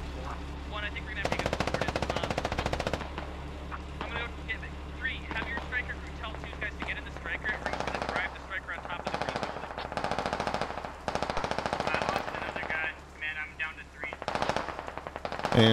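A Stryker vehicle's machine gun in the Squad military game fires long sustained bursts, loud and steady over a constant engine drone, with voices talking over parts of it.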